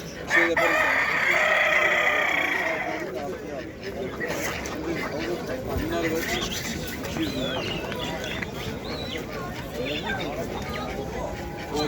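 A rooster crows loudly near the start, with scattered clucking, duck and poultry chatter continuing through the rest amid general poultry-market noise in Izmir, Turkey.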